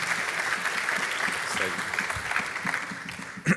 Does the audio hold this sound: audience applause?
yes